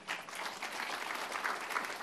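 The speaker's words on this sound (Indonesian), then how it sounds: "Tepuk tangan buat Tuhan." Congregation applauding during a church service, a dense steady wash of clapping that fills the space throughout, with no speech over it.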